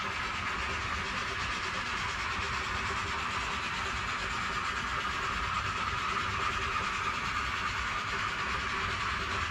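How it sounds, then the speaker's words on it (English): A model coal train strains up a grade on a layout, giving off a steady, faint mechanical whir and hiss that holds without a break. "So that's the train just about stalling on that grade."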